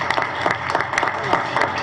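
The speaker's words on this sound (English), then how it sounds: "You can clap for that." Audience applause at a school district board meeting, a steady scattered clapping from a room of people lasting a couple of seconds, with a voice heard faintly beneath it.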